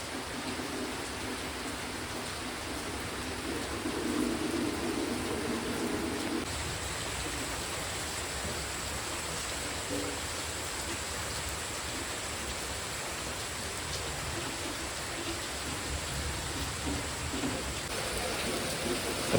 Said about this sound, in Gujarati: વરસાદ તો ફૂલ ચાલુ થઈ ગયો છે વીજળી થાય છે ફૂલ વરસાદ થઈ ગયો છે